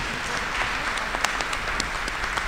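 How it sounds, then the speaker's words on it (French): Steady audience applause at a conference on the attractiveness of the CES and African sovereignty, a dense even wash of many hands clapping at moderate level, with a few sharper individual claps standing out. "Et vous nous applaudissez également."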